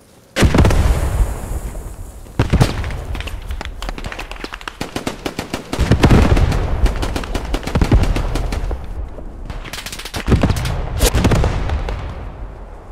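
A tank in the World War II shooter Squad 44 fires its cannon in several heavy, booming blasts. Sharp crackling gunfire runs between the blasts, and the loud battle fills the whole stretch.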